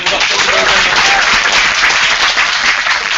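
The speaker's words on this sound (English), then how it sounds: "Once again, round of applause for Anita." Audience applause at a youth summit: a loud, dense, sustained wash of clapping from a crowd that holds steady for several seconds.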